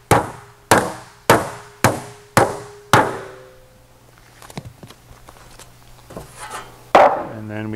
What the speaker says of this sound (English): So do a little round of hammering.